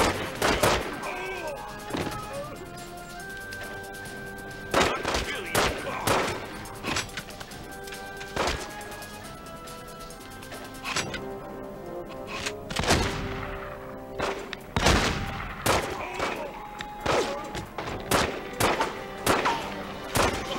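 Gunfire in The Godfather Part II video game, a string of sharp sporadic shots and bursts with crashes, loud and close over game background noise.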